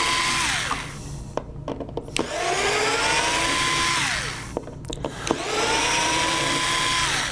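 An electric screwdriver removing the twelve screws holding an appliance control panel, its motor whining up and winding down in two long runs with short rattling clicks between them, close and loud.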